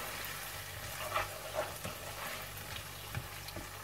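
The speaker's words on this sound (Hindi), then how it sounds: "इसके अंदर मैं ये मिर्चें ये मैंने फ्राई की थी और आलू ये डाल दूंगी। योगर्ट, इसको 3-4 मिनट अच्छी तरह से भून लेंगे" Potatoes and fried chillies cook with yogurt in a pan, giving a quiet steady sizzle with a few light stirring clicks and scrapes, close and without speech.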